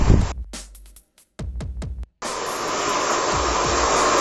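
Hair dryer blowing hair while styling a women's pompadour: a few short bursts cut on and off, then a loud, steady roar that runs to the end.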